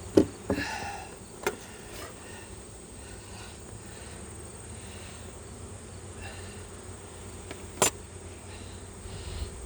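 Bees buzz around an open hive in a low, steady drone, broken by a few sharp knocks and clicks near the start and again toward the end, with no speech.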